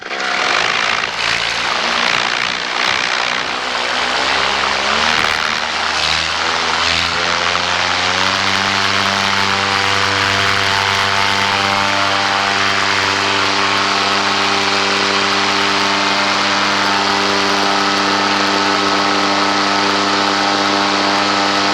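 A paramotor engine roars loud and close during takeoff, its propeller drone rising and then holding a steady, strong pitch throughout.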